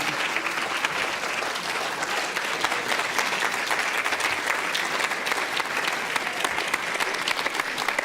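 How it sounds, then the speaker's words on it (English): An audience applauds steadily, a dense even wash of many hands clapping throughout, with no speech over it. "Give yourselves a round of applause"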